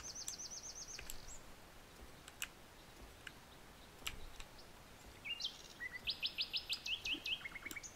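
Small birds chirp in a wild wolf video game, quiet rapid trills and tweets at the start and a faster repeating series near the end over faint ambient hiss and scattered clicks.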